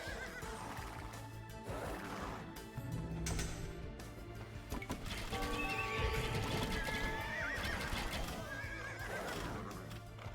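Horses whinny and neigh in a paddock in Age of Empires 2 Definitive Edition, with repeated loud neighs over clip-clopping hooves and game background sound.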